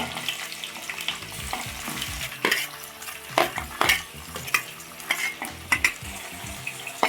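Chopped onions hit hot oil with cumin and mustard seeds in a pan, making a close, busy sizzle with bursts of scraping and clattering as the spoon stirs and knocks the pan.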